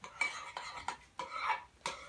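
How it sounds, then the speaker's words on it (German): A spoon stirs a dessert mixture of cream and vanilla in a bowl, quiet scraping and clinking strokes in an even rhythm, about six strokes, close by with no talk. "Wieder gut verrühren."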